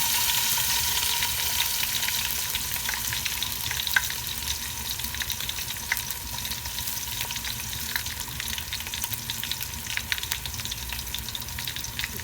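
Garlic and ginger fry in a pan for a vegetarian fish curry, giving off a steady, close sizzle with occasional crackles and pops throughout.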